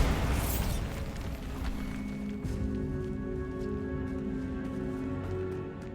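A Bombarda blast spell from Hogwarts Legacy erupts with a loud, sudden boom at the start, then dense rumbling debris and crackling decay hold steady for several seconds.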